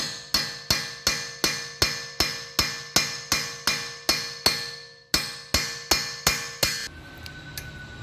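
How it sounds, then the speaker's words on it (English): A hammer strikes a metal punch to drive the axle through the hub of a 2012-2014 Toyota RAV4 EV, about fourteen sharp, ringing blows in an even rhythm, then a pause and a faint clink. "go ahead and punch the axle through the hub"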